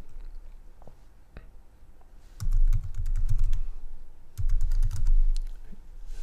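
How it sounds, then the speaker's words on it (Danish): Typing on a computer keyboard while entering a password and email address for a website signup, with two close bursts of rapid key clicks over a low hum and no speech. "så indtaster jeg en kode og så en e-mailadresse"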